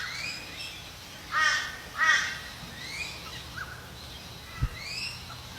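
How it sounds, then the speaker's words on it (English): Two harsh, raspy rainbow lorikeet calls stand out in quick succession, with fainter screechy chatter of more lorikeets in the distance and a brief knock near the end. "there's a lot of rainbow lorikeets working it. You can probably hear them in the distance."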